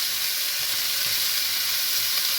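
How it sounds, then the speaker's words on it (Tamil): Onion and grated coconut sautéing in a hot pan for paruppu urundai kuzhambu, a dense, even sizzle that stays loud and close throughout, with faint stirring beneath and no voices. "நல்லா வதங்கினதுக்கப்புறம் இது கூட தேங்காயும் சேர்த்து ரெண்டு கரட்டு கரட்டிடணும்"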